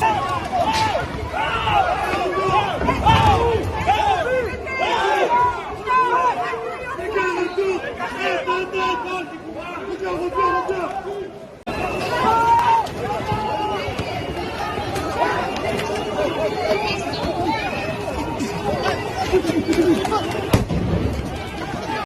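Street protest in France with demonstrators facing police: dense crowd chatter and shouting fill the scene continuously, with scattered bangs and pops like fireworks or blasts breaking through the roar.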